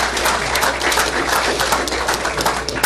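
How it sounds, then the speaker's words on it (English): Steady applause from the audience at a city council meeting, many hands clapping continuously and evenly at moderate loudness throughout. "I think a round of applause already for that"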